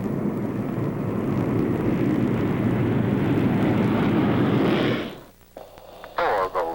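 Thunderbirds jet aircraft at full thrust on takeoff, a loud, sustained roaring engine blast that fills the scene and then drops away abruptly, leaving quieter radio chatter and voices.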